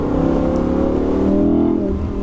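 Audi R8 V10 with quattro accelerating hard mid-turn on an Alpine road, a loud sustained engine roar heard close from inside the car with a steadily rising tone.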